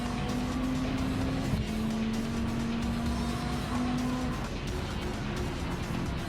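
Engine of the GTLM Grand Crystal Forest race car in Gran Turismo 7 drones steadily, its pitch holding, then shifting slightly as it keeps revving in a continuous, loud roar with no voices.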